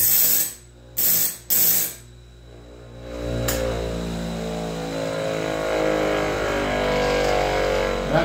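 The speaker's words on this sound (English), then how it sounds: "And fire it up. We'll grind this one." An electric grinder sharpening a sawmill band blade starts up after a few short clicks and settles into a steady, loud whirring grind that holds without pause through the rest of the clip.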